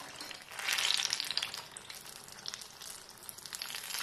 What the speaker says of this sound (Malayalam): ഇനി ഒരു മീഡിയം ഫ്ലെയിമിലിട്ടിട്ട് കുക്ക് ചെയ്തെടുത്താൽ മതി.